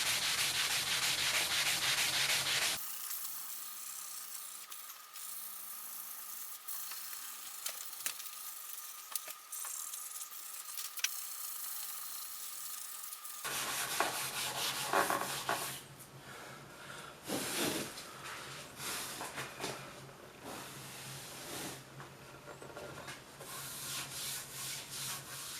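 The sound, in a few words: burnishing and polishing a wooden cutting board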